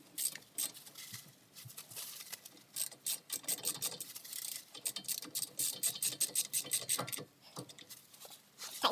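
Ratchet tightening the brake caliper bolt on an Acura MDX during a pad and rotor job, fast close clicking in uneven bursts with short pauses, loud and alone.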